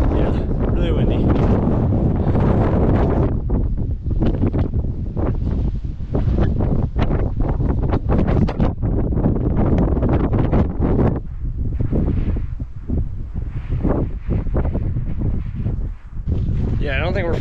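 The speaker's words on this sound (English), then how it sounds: "really windy" Strong wind gusts through a desert canyon, roaring loudly and buffeting the microphone almost without pause, with a voice briefly heard under the rush.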